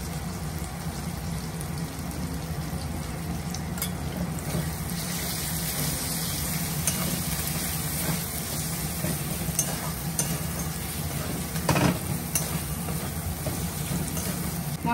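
Spices with turmeric and chili powder fry in a pan for a home dinner, a steady soft sizzle and crackle running continuously with occasional stirring scrapes.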